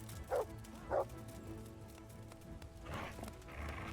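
A dog in the medieval video game Kingdom Come: Deliverance gives two short barks early on, moderately loud over a steady background bed of game ambience and distant rustling.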